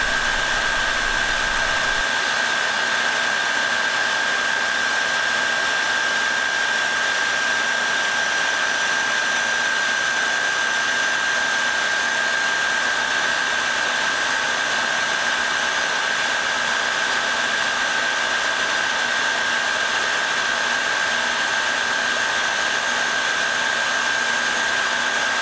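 A Graziano metal lathe runs steadily through a machining cut, producing a loud, constant whirring hiss with a faint tonal hum that never changes in level, with no one talking.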